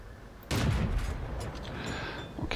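Marder II tank destroyer's cannon fires once in World of Tanks: a sudden heavy report cuts through low background rumble, then fades into an extended booming echo with faint mechanical clatter near the end.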